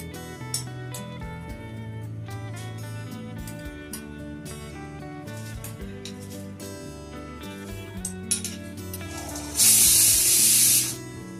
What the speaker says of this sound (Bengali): দেখো একটা সিটি পড়েছে